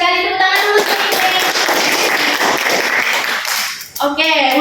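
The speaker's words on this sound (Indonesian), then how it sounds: "Tepuk tangan dulu untuk Niken." Brief classroom applause for a student during a microteaching lesson on synonyms and antonyms, a burst of clapping between stretches of a teacher's speech at the start and end.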